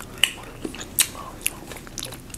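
Crunchy snacks are bitten and chewed close to the microphone in ASMR style, with a handful of sharp, crisp crunches spaced over a quiet background and no talking.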